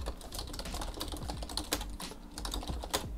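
Fast typing on a computer keyboard, a quick run of close, crisp key clicks and clacks at an uneven rhythm with no talk.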